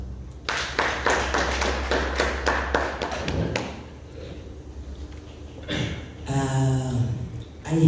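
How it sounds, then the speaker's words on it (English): A seated audience at a management event bursts into a short spell of applause, loud sharp claps for a few seconds that fade into quieter scattered taps and room noise. "You should give yourselves a hand of applause."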